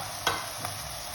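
Ground cumin fries in a pan with chopped onions and green chilies, giving a soft, continuous sizzle broken by two brief stirring scrapes.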